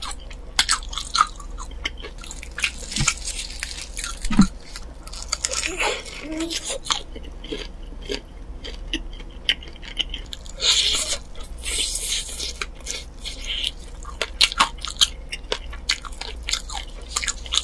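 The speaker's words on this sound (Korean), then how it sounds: "이번에는 내가 좋아하는 날개를 먹어볼게요" Close crunchy bites and wet chewing of a Nene Cheongyang Mayo fried chicken wing, scattered crackles and squishes spread across the stretch with occasional brief talk.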